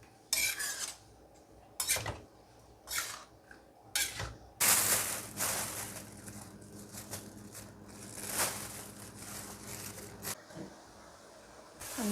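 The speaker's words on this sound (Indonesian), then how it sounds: "Tinggal diaduk-aduk." A utensil scraping and clinking against a pan while food is stirred, in irregular bursts with quieter gaps, close and fairly loud, with no talking.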